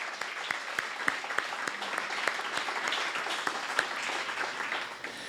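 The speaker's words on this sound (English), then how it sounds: "So let's give him a round of applause." An audience gives a steady round of applause for the organiser at a film-investment event, a dense wash of clapping with a few sharper individual claps that fades slightly near the end, with no one speaking.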